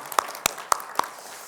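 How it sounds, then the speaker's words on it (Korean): Crisp handclaps from a church congregation, four clear, evenly spaced strikes in quick succession with a faint roomy tail, starting applause after a prayer. "우리 하나님께 영광의 박수 올려드리겠습니다"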